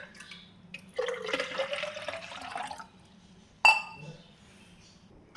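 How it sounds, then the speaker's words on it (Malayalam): Water pouring into a bottle for a kids' outing, a rising gurgling fill lasting about two seconds, then a sharp clink of the bottle being set down. "ഈ ബോട്ടിലാണ് വെള്ളമൊക്കെ എടുക്കുന്നത്"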